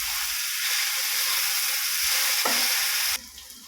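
Ginger and garlic hit a hot pan of oil and tomatoes, sizzling in a loud, steady frying hiss with a stirring scrape partway through before the sizzle abruptly drops quieter.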